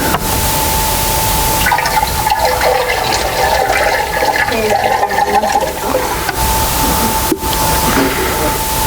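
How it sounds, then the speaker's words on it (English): Liquid ice cream mix pours steadily into a container, a loud, continuous rushing splash running for several seconds close up, with no talking. "Now we're going to pour the rest of this in here."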